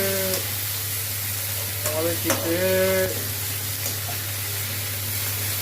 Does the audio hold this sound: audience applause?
no